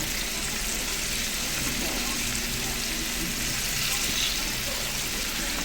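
Paneer cubes fry in hot oil for a paneer gravy, giving a steady, close, even sizzle and bubbling hiss that runs throughout without pause.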